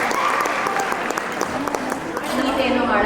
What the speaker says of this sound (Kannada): ಸೊ ಅವ್ರಿಗೊಂದು ಚಪ್ಪಾಳೆ